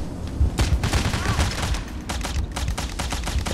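Dense gunfire in the video game Payday The Heist, with rapid overlapping shots and bursts filling the whole stretch, loud and continuous.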